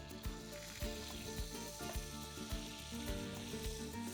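Butter and olive oil melt in a hot pan ahead of frying fish, giving a steady, close sizzle with crackling pops throughout and no talk.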